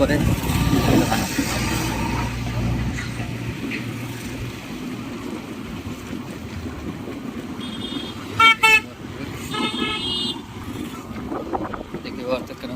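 A government vehicle arrives at a roadside demolition of illegal constructions at a market, and its horn sounds in a short burst of honks amid wind noise and a street murmur.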